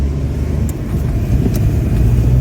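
A car drives along a road overtaking two-wheelers, its engine giving a loud, steady rumble with road noise that rises slightly toward the end, with no talk.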